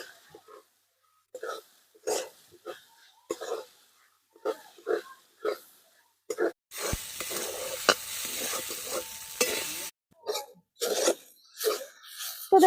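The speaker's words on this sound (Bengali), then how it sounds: "আমার সাবুদানাটা ভালোভাবে ভাজা হয়ে গেছে দেখুন" Soaked sago pearls are stirred and fried in a pan for payesh: repeated short scraping strokes of the spoon, with a stretch of continuous sizzling in the middle, close and fairly quiet.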